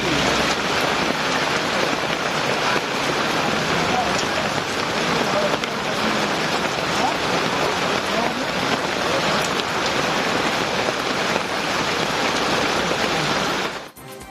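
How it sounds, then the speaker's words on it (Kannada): Heavy late-night rain pours without letup onto flooding roads, a dense, loud, steady hiss that fills the whole stretch before cutting off abruptly at the end. "ನಿನ್ನೆ ತಡರಾತ್ರಿ ಸುರಿದ ಮಳೆಗೆ ರಸ್ತೆಗಳು ಜಲಾವೃತವಾಗಿವೆ."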